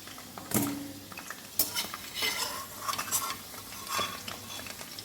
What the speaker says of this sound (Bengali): মাংসের জন্য আলু ভাজা হচ্ছে